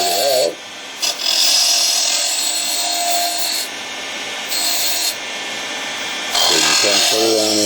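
A 3/8 inch spindle gouge back-drags across wood spinning on a lathe, giving a steady hissing scrape with shifting pitch, close and continuous, broken by a few brief pauses as the cut changes.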